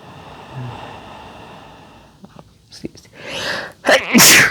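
A quiet stretch with faint breathing, then a sharp, loud sneeze bursting out close by, with a brief intake before it.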